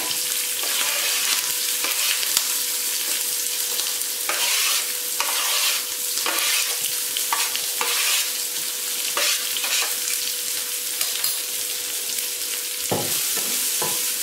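Finely chopped onions sauté in a pan for Chettinad kuzhi paniyaram, a continuous sizzle broken by scraping stirs at irregular intervals, close and steady throughout with no talking.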